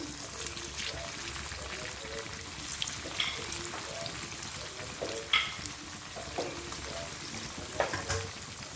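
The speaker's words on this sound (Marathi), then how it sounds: "वड्या लालसर रंगाच्या होईपर्यंत मी तळून घेतलेल्या आहेत आता आपण काढून घेऊया अशाच आता सर्व वड्या तळून घेणार आहे मी" Spring onion vadi fritters sizzle steadily in hot oil, a constant crackling hiss with occasional sharper pops and clinks of a utensil, while someone talks over the frying.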